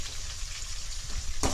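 Large and small onions fry in a pan with a steady, close hiss of sizzling that runs throughout, ending on a brief louder crackle.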